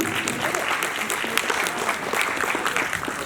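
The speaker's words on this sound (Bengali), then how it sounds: "সায়ন্তন এবং তাপসদের জন্য জোরে হাততালি দেবেন।" Loud, dense applause from a theatre audience at an evening stage event fills the whole stretch steadily, with a few cheers rising above the clapping.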